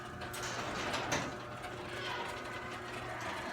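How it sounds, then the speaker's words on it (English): A garage door rolls open with a steady mechanical rumble and rattling grind, continuing evenly throughout. "The door should be making a lot of noise."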